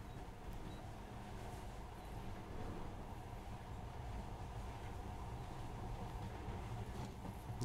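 A monorail train rolls in the video game Metro Last Light, a faint, even rumble with a low rattling hum that holds steady throughout.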